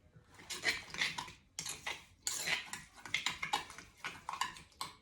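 A utensil stirring and clinking against a dish while mixing a seasoning rub for a boneless leg of lamb, rapid close scraping taps in short bursts with brief pauses.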